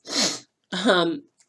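A single sharp sneeze, followed shortly by a short voiced reply.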